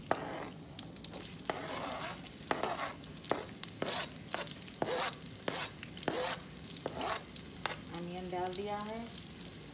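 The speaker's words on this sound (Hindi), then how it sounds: "अनियन फ्राई होने लगा है।" Onions sizzle in hot oil with mustard seeds for a Fiji-style prawn curry, a steady crackling fry broken by repeated scraping stirs, while someone speaks briefly over it.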